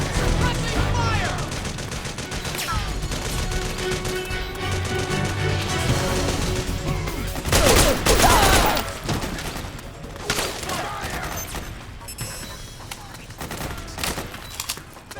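Dense, sustained in-game gunfire from Metal Gear Solid 4: Guns of the Patriots, with rapid automatic bursts, heavy blasts and crashes over about fifteen seconds, loud and close, with occasional voices shouting amid the shooting.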